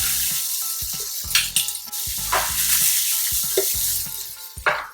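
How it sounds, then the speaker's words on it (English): Prawns frying in a hot pan with chili for spaghetti aglio e olio, a loud steady sizzle broken by repeated scraping and stirring clatters, no talk. "it's time to add in the prawns. So okay, I'll be cooking the prawns for about 30 seconds or so till it's cooked"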